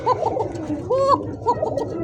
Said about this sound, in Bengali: নরমাদি দুইটা কবুতরই ডাকে